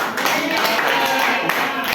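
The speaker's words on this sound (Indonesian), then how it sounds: "Sebelumnya tepuk tangan dulu buat tadi" A group at an assessment-writing training session claps together in a short, steady burst of applause, close and fairly loud, with faint voices in the background.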